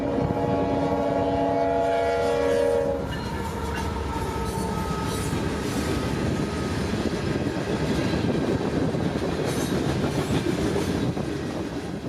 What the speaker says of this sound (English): Here's another 453, this one filmed on a chilly March morning with 2 of CSX's Pride and Service Spirit engines.